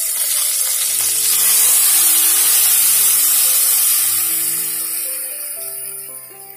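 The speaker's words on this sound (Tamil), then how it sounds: "இப்ப நம்ம இந்த வெண்டைக்காயில ஊத்திடலாம்." Tamarind water is poured into okra frying in spiced oil for puli kuzhambu, and it gives a loud, hissing sizzle that swells, then slowly fades as it settles, over soft background music.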